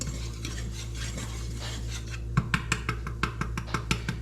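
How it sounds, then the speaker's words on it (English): A spoon stirs a roux cooking over medium-low heat in a pan, first a soft continuous scraping, then a run of distinct rhythmic clinks and scrapes against the pan, close up with no talking. "Got to keep it on stirring."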